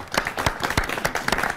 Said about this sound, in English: how about a round of applause for Jackie?